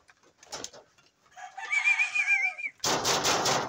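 A bird gives a short warbling call, then louder raspy clucking sounds follow close by, with no talking.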